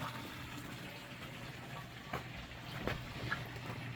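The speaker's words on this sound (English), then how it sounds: "it also fills up the pots. So they're all filling up." Water trickles and fills the pots of a hydroponic grow system with float valves indoors, a low steady gurgling flow with a few faint knocks, moderately quiet.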